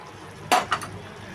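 Roasted cashews being stirred into carrot halwa in a pan, heard as two or three quick clinks and scrapes of a spoon against the pan, close and brief.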